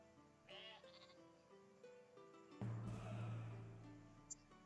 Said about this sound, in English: Kill the sheep, don't need it.